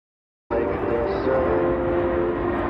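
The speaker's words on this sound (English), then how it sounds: "the C-17 is extremely maneuverable at both high and low speeds" A C-17 military transport aircraft roars past at an air show, a loud, steady jet rumble that starts abruptly and holds without pause.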